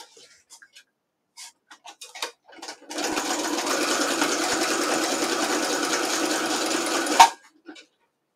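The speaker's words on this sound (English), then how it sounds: "So I'm just going to stitch right here." Sewing machine stitching a journal cover in one steady run of about four seconds, preceded by light handling taps and ending with a sharp clunk.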